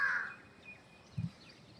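A crow calls twice: a short, fairly clear caw at the start, then a brief, low, muffled one a second later, both against quiet outdoor background.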